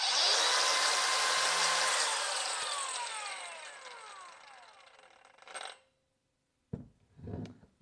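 A Kobalt 4-inch battery circular saw spins down after running, its bright whine falling away over several seconds until the blade stops, followed by a couple of short knocks and rattles.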